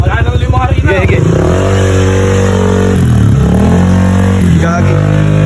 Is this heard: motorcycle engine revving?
yes